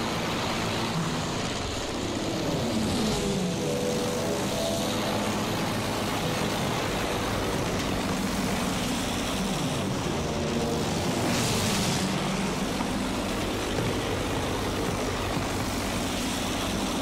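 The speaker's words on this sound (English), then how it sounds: "Sighted an enemy plane!" Airplane engines in a multiplayer combat flight game drone steadily throughout, a continuous mid-level roar with shifting pitch and no talk.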